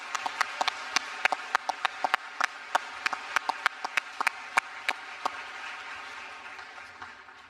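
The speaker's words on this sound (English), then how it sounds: "Let's give a round of applause for all the staff." An audience at a 2024 high school cap-and-gown graduation ceremony claps for the staff, a scattered, moderately distant round of applause with sharp individual claps that thins out toward the end.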